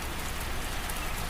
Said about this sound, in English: The second half of our journey was spent in the rain.